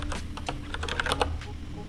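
Rapid key clicks on a computer keyboard, fairly close and steady, a quick run of taps lasting under two seconds with faint background hum.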